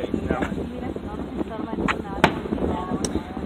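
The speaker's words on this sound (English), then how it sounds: "check out all those fireworks" Fourth of July fireworks explode with several sharp pops and bangs at irregular intervals, moderately distant, under an ongoing background rumble while people talk.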